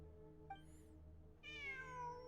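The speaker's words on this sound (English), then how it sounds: "I'm not hearing things. It really is a cat." A cat meows in the video game Genshin Impact: a drawn-out, falling meow over a steady hum of game music, with a faint earlier chirp and no talking.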